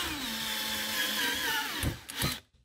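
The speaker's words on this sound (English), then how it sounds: "we're actually going to be using a drill on this tool in order to make our flares" Power drill turning an eccentric flaring tool on copper tube, a steady whirring drone whose pitch slides down as it loads up, then two short bursts before stopping.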